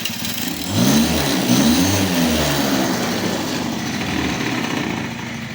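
A scooter engine fitted with an electric choke valve keeps running after a start, a steady mid-pitched putter with a slight rise in revs early on, close and alone without talk.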